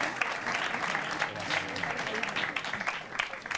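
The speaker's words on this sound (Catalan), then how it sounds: "Un aplaudiment." A studio audience on a spelling quiz show claps in a lively, continuous round of applause, steady and fairly close, with individual claps audible in the mix.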